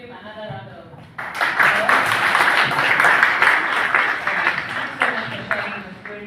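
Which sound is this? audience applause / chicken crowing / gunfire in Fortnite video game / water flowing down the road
audience applause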